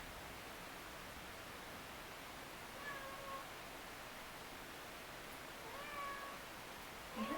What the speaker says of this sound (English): Sorry, you probably hear the cat.